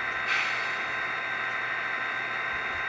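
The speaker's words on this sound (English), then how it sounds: "Next is function 15 with the short air let off." A sustained hiss of escaping air from an HO scale BN SD40-2 model locomotive's sound effect, broadband and fairly loud, holding steady for a few seconds with a brief swell near the start.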